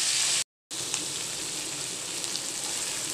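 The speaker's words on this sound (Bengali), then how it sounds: "শুঁটকি মাছটার কালার চেঞ্জ হয়ে গেছে, এখন ভাজা ভাজা হচ্ছে" Lotka dried fish fries in hot oil with a dense, steady sizzle and crackle. The sound cuts out for a split second, then keeps going evenly.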